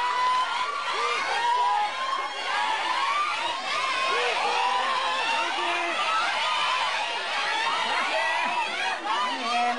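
A large crowd of fans cheers loudly and continuously at a band's reunion press event as the band members arrive, with high excited shouts and screams blending into a dense, unbroken roar.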